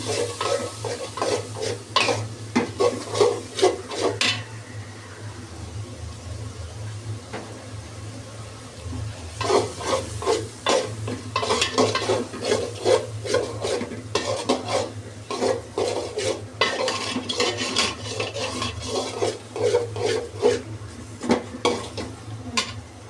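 Spices with turmeric and coriander powder being stirred and sautéed in a pan for khichuri: a steady low sizzle under repeated scraping and clinking of a utensil against the pan, with bursts of busier stirring.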